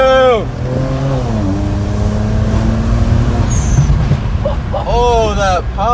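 A BMW 335i fitted with downpipes revs hard nearby, the exhaust note climbing and falling in harmonic sweeps with crackling pops on lift-off, while people talk over it.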